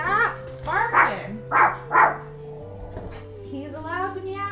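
Toby the dog gives four sharp, close barks in a quick burst, with a voice talking over them and a softer whine trailing off at the end.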